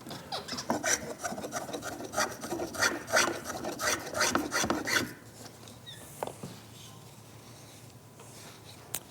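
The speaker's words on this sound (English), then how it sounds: "We'll scrape this, and then I'll show you on a dry piece how it scrapes as well." A wooden tool handle is scraped by hand in a rapid series of rhythmic rasping strokes, close and clear, then the scraping stops and a quieter pause follows with a soft clunk.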